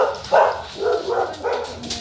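A pet dog barks in a home kitchen, three or four loud, close woofs in quick succession with short gaps between them.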